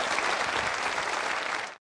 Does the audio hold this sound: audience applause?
yes